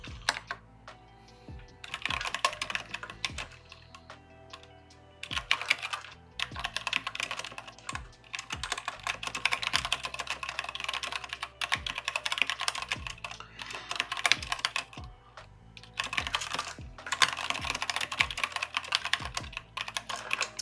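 Fast, continuous computer keyboard typing, close and clear, in bursts separated by brief pauses.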